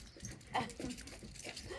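A dog whimpers and makes short faint vocal sounds at a distance, soft and brief over background noise.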